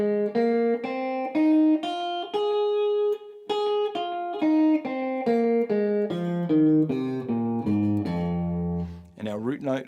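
An electric guitar plays a minor pentatonic scale in F using pattern 1, picking single notes one at a time at a steady pace, clear and close, ending on a brief bent or sliding note.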